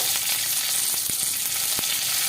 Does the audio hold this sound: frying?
yes